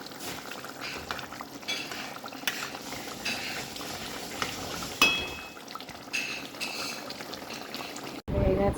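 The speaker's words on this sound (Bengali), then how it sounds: "পটল আলু দিয়ে মাছের ঝোল একটু ফুটবে" Bengali fish curry with potato and pointed gourd simmering in a pot, a soft bubbling boil with faint clinks and brief stirring noises, close and quiet, cut off by a louder burst at the end.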